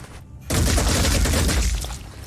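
Sustained minigun fire in the video game Phoenix Point, a loud, dense rattling burst kicking in abruptly after a brief quiet moment and running steadily for nearly two seconds before easing slightly.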